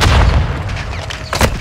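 Heavy gunfire and booming blasts from a Call of Duty: Modern Warfare 2 (2022) campaign battle, a loud dense burst at the start easing into rumbling fire, then another sharp crack near the end.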